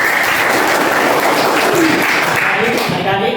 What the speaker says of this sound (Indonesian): Baik, kita beri aplaus untuk lagi.